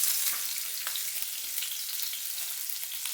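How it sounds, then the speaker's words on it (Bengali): Chopped onions fry in hot oil left from fish, a close, even crackling sizzle with bright popping specks, steady and without talk. "পেঁয়াজ কুচি দিয়ে দিলাম ওই তেলে।"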